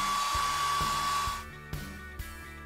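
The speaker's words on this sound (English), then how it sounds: "I'll blow dry my hair for 5 minutes." A hair dryer blow drying long hair runs with a steady, loud whooshing roar, then drops lower partway through while faint knocks sound beneath it.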